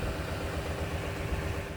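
A 2014 Kawasaki Mule 4x4 with blown head gaskets idles steadily with a noisy clutch, giving a close, continuous low rumble and rattle without pauses.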